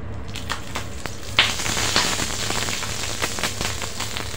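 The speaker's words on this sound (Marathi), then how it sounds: "ते तेल घातल्यानंतर मिरच्या फुटतात, अंगावर बिया ओढू शकतात" Green chillies fry in oil on a griddle, giving a dense, continuous crackle and sizzle with scattered sharp pops, close and steady throughout.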